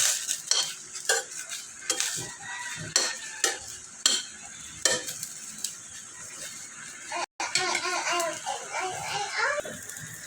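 Hotdogs simmering and frying in a pan are stirred with a utensil, giving repeated scraping clinks against the pan over a soft bubbling sizzle, with a voice and quiet talk in the background.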